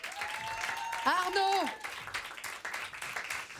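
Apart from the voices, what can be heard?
audience applause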